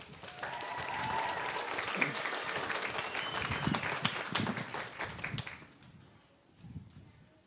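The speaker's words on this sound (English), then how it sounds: "Please give Evelyn a round of applause." At a San Juan College High School graduation ceremony, the audience breaks into warm applause with a few whistles and cheers. The sound is steady for about five seconds, then fades to scattered claps.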